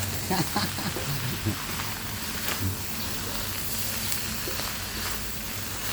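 Fried eggs and bamboo shoots stir-frying together in a pan, giving off a continuous soft sizzle and hiss with a few faint clinks and brief murmurs early on.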